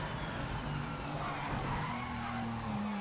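A race car's tires squeal and skid in a sim racing game, a continuous sustained screech over engine drone at a steady level, with no voices.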